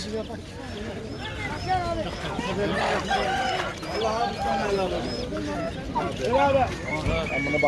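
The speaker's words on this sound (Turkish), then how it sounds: "Rengarenk Hint ve köy horozları karışımı." Several roosters, a mix of Indian and village breeds, crow and cluck amid a busy crowd at a poultry and bird market in Adana, Turkey, with people talking throughout in a noisy, lively setting.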